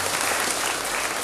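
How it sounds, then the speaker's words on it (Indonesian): An audience claps loudly and steadily at a parents' and students' motivational seminar, a dense wash of applause filling the whole short moment with no voices on top. "Boleh tepuk tangan buat Bunda kita."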